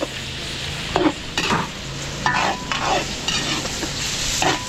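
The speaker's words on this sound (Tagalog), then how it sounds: "gigisa muna natin ng chicken breast" Chicken breast sautéing in a pan with butter, garlic and onion gives a steady close sizzle, broken by a few scraping stirs of the utensil against the pan.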